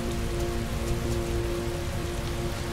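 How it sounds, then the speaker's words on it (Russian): Heavy, steady rain pours down in the video game Heavy Rain, a dense continuous hiss of drops striking surfaces under a low hum, with no speech. "Такой сильный дождь. Льет, не переставая, уже не первую неделю."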